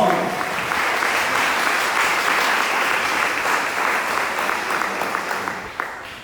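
Church congregation applauding during a Spanish-language sermon, dense sustained clapping from many hands, loud and close, tapering off near the end.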